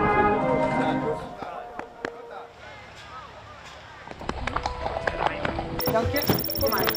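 Horse hooves clip-clop during a Dutch mounted brigade riding lesson, irregular sharp taps that grow busier toward the end, heard under continuous instructor talk.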